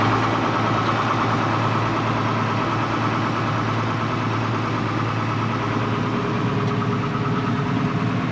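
A farm tractor's engine idles steadily and loudly at close range, a constant even rumble with no talking over it.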